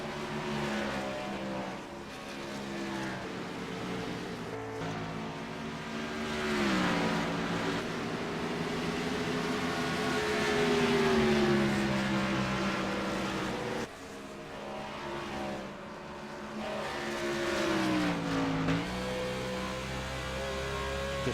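In the iRacing video game, a race car engine at Rockingham drones close and loud, its pitch sweeping up and down with each acceleration and lift, then dipping sharply before climbing again.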